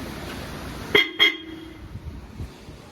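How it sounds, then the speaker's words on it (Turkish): Two short horn honks from a modified 2023 Fiat Fiorino in quick succession, a brief pause between them, over a quiet background hum. "Boş kornayı da size dinleteyim."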